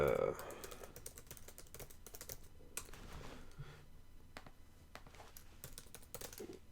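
Rapid, close tapping on a computer keyboard as a product review is typed, in irregular bursts of keystrokes with brief pauses, quiet and alone.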